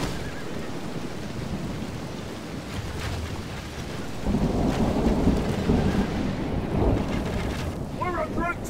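Steady rain falling across a medieval battlefield in the strategy game Total War, a dense continuous wash of noise that thickens partway through, with rumbling ambience and brief tonal game sounds near the end.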